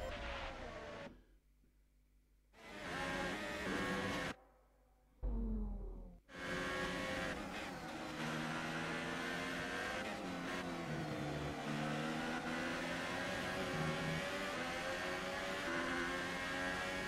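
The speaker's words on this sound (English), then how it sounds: "Engine on." A race car engine fires up in a racing video game, dropping out briefly before catching and settling into a loud, steady, high-pitched drone that runs continuously without talk.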